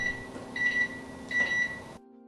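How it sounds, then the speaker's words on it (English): A Panasonic bread maker signals finished bread with three evenly spaced electronic beeps, clear and close, over a faint machine hum that cuts off at the end. "our bread maker just beeped"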